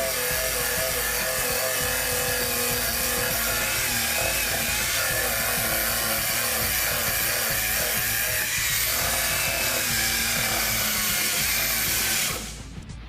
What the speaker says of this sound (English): he's going to take what's called a crud thug. It's a wire wheel. It's made by Snap-on.